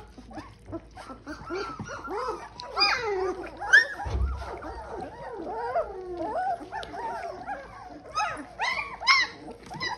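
Young puppies whimpering and yelping in a busy overlapping chorus while being fed puppy mush from bowls, with high squeals and whines throughout and a brief low thump near the middle.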